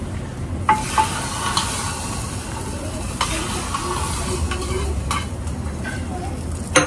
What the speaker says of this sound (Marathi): फोडणी डाळ